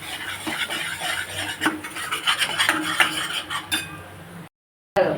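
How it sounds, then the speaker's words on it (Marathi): A spoon or spatula stirring and scraping ground masala in a pan as it sautés, with irregular close scraping and clinking strokes and a soft sizzle, ending briefly in silence. "या मसाल्यामध्ये सुद्धा छान परतून घ्यायचं"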